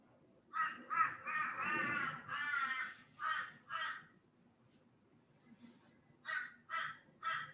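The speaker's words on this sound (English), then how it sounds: "Yeah, I got the crow happening." Crow cawing in a series of harsh calls, a burst of several rapid caws followed by a pause and then three more, fairly clear against quiet background.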